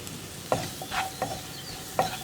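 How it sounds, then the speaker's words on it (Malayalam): Chopped tomatoes going into a spice masala frying in a pan and being stirred, with soft sizzling under a few distinct scraping stir strokes, close up. "ഇനി നമുക്കിതിലേക്ക് നമ്മൾ കട്ട് ചെയ്ത് വെച്ചിരിക്കുന്ന തക്കാളി ചേർക്കാം."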